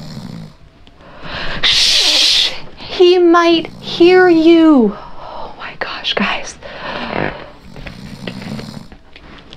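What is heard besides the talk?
snoring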